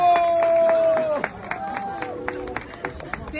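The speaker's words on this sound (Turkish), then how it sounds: "Ona da büyük bir alkış." Scattered, sharp hand claps break out from a small crowd as a Datça Spor Kulübü swimmer finishes a winter open-water swimming marathon in Datça. A voice is heard first, then the claps ring out in an uneven rhythm.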